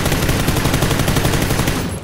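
M4 rifle firing in PUBG, a loud, close, sustained automatic burst of evenly spaced shots for about two seconds before cutting off.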